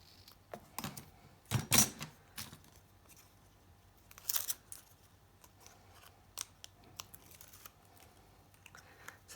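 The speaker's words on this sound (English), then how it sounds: "I'm going to trim it just so I got the tape right up until the corners" Scissors snip through craft tape on a memory box under construction, a couple of sharp close cuts early on, then quieter handling and small rustles.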